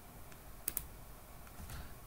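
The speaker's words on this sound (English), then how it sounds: "Type in your password." Light key taps on a computer keyboard as a password is entered, a few scattered clicks with one sharper pair, close and quiet with no voices.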